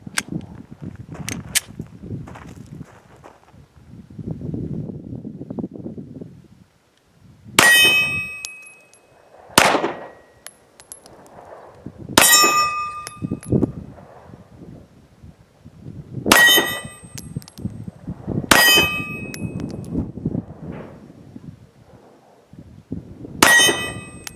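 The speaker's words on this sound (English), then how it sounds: "first shots with the Mossberg MC2c with some 9mm" A Mossberg MC2c 9mm compact pistol firing 115 grain ball ammunition on a range, five or six sharp loud reports spaced a few seconds apart, each with a metallic ring, alongside quieter handling noises.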